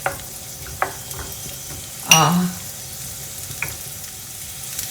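Onion slices fry in a pan for an Anglo-Indian okra and tomato dish, a low steady sizzle with scattered spatula taps and one louder scrape near the middle, and no talking.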